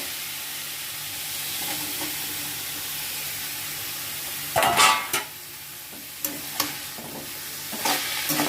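Fried potatoes and banana flower sizzle in a pan, a soft steady frying hiss broken by a few sharp bursts of stirring and scraping midway and near the end.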